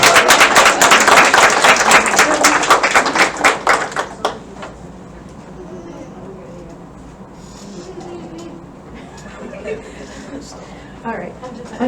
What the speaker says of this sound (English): can we have one more round of applause, please?